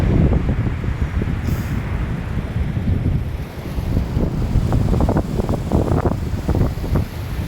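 Strong wind roars steadily across the microphone at Lawis Beach, Labrador, Pangasinan, Philippines, with heavy surf crashing underneath; no voices, just continuous blustery noise.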